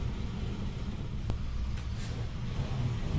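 Recorded from inside a city bus during a ride, the interior fills with a loud, steady engine rumble and road noise, with a brief hiss or squeak of brakes partway through.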